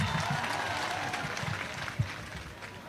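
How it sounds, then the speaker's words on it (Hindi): Applause from an audience at a poetry recital at Karachi University, a dense spread of clapping heard up close that keeps going steadily for a few seconds. "उनके लिए ज़रा तालियां बजा दीजिए।"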